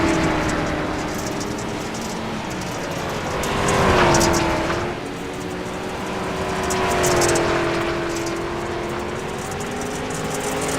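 Race cars run on a track in an SRX series race, their engines droning loudly and continuously with rising and falling pitch as cars accelerate and pass, and no voices are heard.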